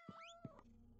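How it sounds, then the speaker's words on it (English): A Minecraft cat gives a couple of short, clear meows in quick succession, close and alone, in the Bedrock edition game. "Meow, meow, meow."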